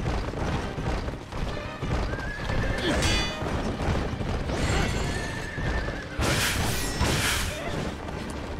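A horse neighs several times in the video game Wo Long: Fallen Dynasty, loud whinnies rising over clip-clopping hooves, whooshes and scattered crashes of game action.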